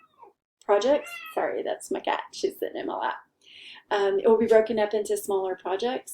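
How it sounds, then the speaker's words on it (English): A pet cat meows from someone's lap, its short cries mixed in with steady close talking. "Sorry, that's my cat. She's sitting in my lap."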